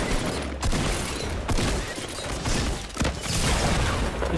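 Explosive trap blasts in the video game Fortnite burst out as a few loud, sharp booms over a dense layer of constant game noise, with no talking.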